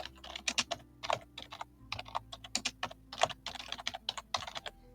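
Fingers type on a computer keyboard in quick, irregular bursts of close, crisp clicks, entering a new name for a node in an automation workflow with no voices.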